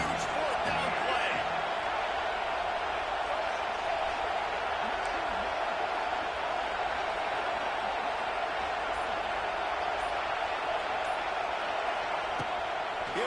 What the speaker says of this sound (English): This crowd bringing serious noise on this huge, huge 4th down play